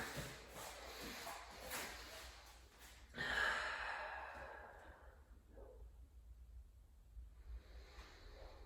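Slow, deep breaths in a yoga child's pose, close and soft, with a long audible exhale partway through that fades into quiet rustling; nobody speaks.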